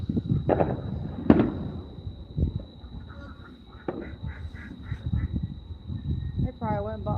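Neighbours' Fourth of July fireworks pop and crack in the distance around 10:39 at night, sharp bursts scattered under nearby conversation.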